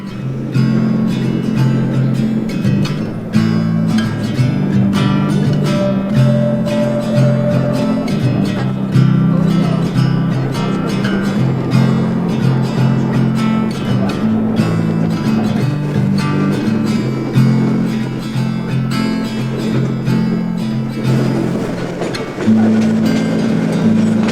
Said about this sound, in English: tram going from Port de Soler to the city of Soler